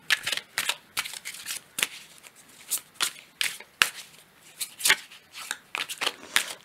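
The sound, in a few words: cards being shuffled and drawn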